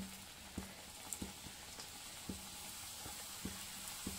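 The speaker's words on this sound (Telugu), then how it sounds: "కొన్ని ఎన్ని పడితే అన్ని చూసి వేసుకొని మంచిగా రెడ్ కలర్ వచ్చే వరకు మంచిగా వేపుకుందాం" Wheat flour biscuit dough frying in hot oil, a steady soft sizzle running throughout with occasional sharper clicks and pops spaced irregularly, fairly quiet and close, no voices.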